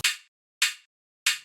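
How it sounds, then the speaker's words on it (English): A single hi-hat, number 15 from a tech house sample pack, strikes three times alone, each hit a bright airy hiss fading out over a longer tail, fairly quiet with silence between hits. "I took hat 15, and on its own, it's more drawn out."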